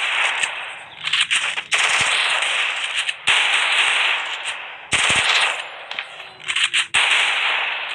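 Rapid automatic gunfire in a battle royale video game, loud close bursts of shots in quick succession, broken by brief pauses and a few sharp single cracks, with no talk.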